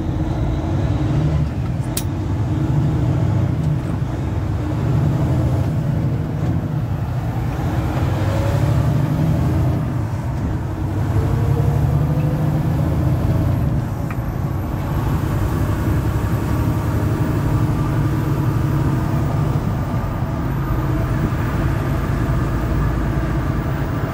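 A truck drives along the road with a continuous, steady engine rumble and tire noise heard from inside the cab, constant and fairly loud throughout with no talking.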